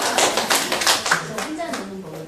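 A seated audience at a Korean lecture on depression claps together in a brief burst of close, fairly loud applause, with voices talking over the clapping.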